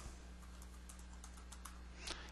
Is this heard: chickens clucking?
no